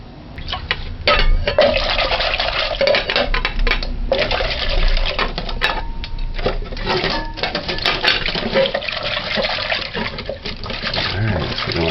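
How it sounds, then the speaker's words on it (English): Water from a tap rinsing coconut drops, a continuous loud splashing rush with clinks of pieces being handled and brief pauses in the flow; a voice speaks briefly. "Alright, so now we're going to rinse that off."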